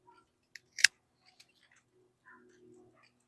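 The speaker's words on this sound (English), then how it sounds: "So I'll cut off the very top here." Pruning shears snip the top off a mulberry graft cutting: a single crisp, close cut with a brief click before it, then a few light handling taps and rustles in a quiet room.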